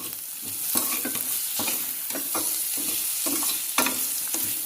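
Beetroot biryani masala being sautéed in a pan, with a steady sizzle broken by repeated scraping stir strokes in an uneven rhythm, close and moderately loud, with no voices.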